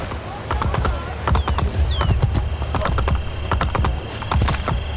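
Horse hooves clip-clopping in Assassin's Creed Brotherhood on PS5, a steady close trot of sharp hoof strikes over a low game soundscape, with a brief whinny-like sweep partway through.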